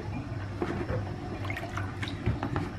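Water trickles and drips steadily while mustard greens are rinsed by hand in a basin, a soft continuous splashing with small clinks and no talking.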